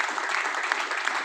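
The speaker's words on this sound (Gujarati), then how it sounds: "એવા મારા great upline GJ Jhala sir માટે જોરદાર તાળી પાડી." Hearty applause from a meeting audience cheering an upline, a dense, steady wash of many hands clapping close by, with no gaps for its whole short length.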